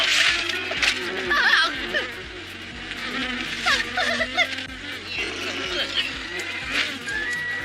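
A swarm of cartoon bees in a Jungle Book animated episode buzzes in a steady, wavering drone beneath busy music and voices, with no single insect standing out.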